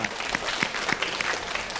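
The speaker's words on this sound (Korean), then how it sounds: "다 같이 박수 한번 부탁드리겠습니다." A lecture audience at a parenting-coaching talk claps together on request, giving steady, even applause that stays fairly close and constant throughout with no talking.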